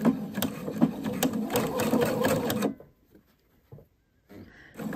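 Sewing machine stitching a sleeve placket with cuff, a close, brisk run of rapid stitching that stops abruptly, followed by near silence and a couple of faint handling sounds, then a brief resumption.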